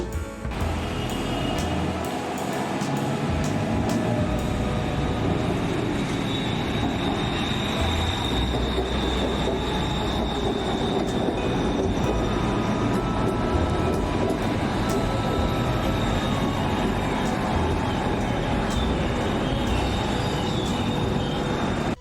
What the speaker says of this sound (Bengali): ট্রেনের গতি বাড়ার সাথে সাথেই